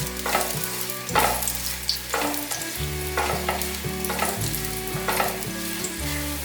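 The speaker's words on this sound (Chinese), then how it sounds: "用小火慢慢的炒" Ginger slices stir-fry in a little oil in a wok over low heat, giving a steady close sizzle with repeated scraping strokes of a spatula against the pan.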